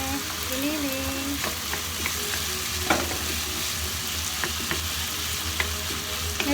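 Frozen ground meat (giniling) frying in a pan for a Filipino ground meat omelette, a steady dense sizzle with occasional stirring clicks and scrapes, close and continuous.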